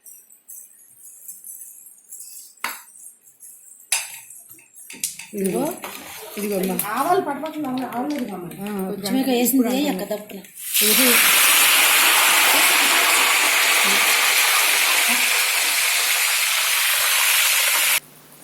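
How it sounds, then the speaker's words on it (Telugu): Someone talks briefly over a few clinks, then a loud, steady hiss of hot oil tempering fills the rest as it is mixed into a kondapindi leaf pickle, cutting off abruptly at the end. "ఆ పోపుని ఇప్పుడు అన్నీ కలిపిన ఈ పచ్చడి మిశ్రమంలో కలిపేసేయాలి"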